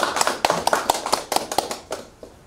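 A few people at a Korean newspaper and broadcasting association's annual general meeting give brief, sparse applause: a scattering of sharp handclaps over about two seconds that quickly fades.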